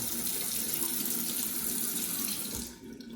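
Tap water running steadily into a sink while a Casio G-Shock Rangeman GW9400 watch and a toothbrush are rinsed, a close continuous splashing that fades near the end.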